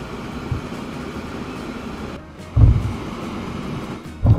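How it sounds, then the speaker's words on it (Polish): A train rolls along in the video game Transport Fever, a steady rumbling rail noise with louder low thumps from the wheels at a few moments and no talking. "No cóż, no pociąg się transportuje"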